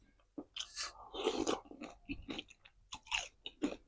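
Close, crunchy chewing and biting of crispy pork with thick-broth rice noodle soup, several bites and wet mouth sounds in an uneven rhythm, with no talking.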